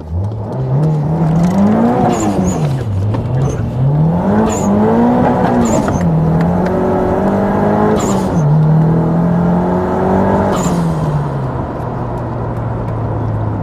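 Nissan Silvia S13 with a turbocharged SR20DET engine making about 300 horsepower, revving hard and close with rising and falling pulls, turbo whistles and sharp blow-off bursts between throttle changes.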